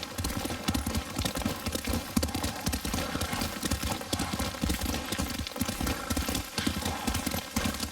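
Horse hooves clip-clopping steadily while riding in Ghost of Tsushima, a continuous brisk rhythmic gait close up with a brief whinny and background game music.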